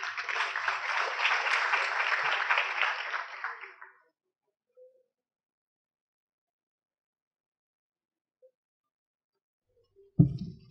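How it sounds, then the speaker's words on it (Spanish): Conference audience at a maritime transport forum in Ecuador applauds to welcome a speaker, with a short burst of clapping that fades into near silence, followed by a brief thump at the end. "lo recibimos con un fuerte aplauso"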